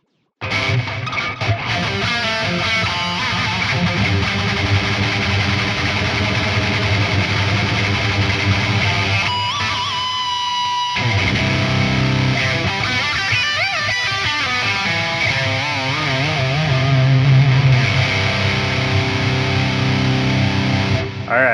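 Distorted electric guitar through a Wavemind Rev F rectifier amp sim plugin with a delay effect, notes repeating and trailing into one another in a loud, sustained wash of sound with no voices.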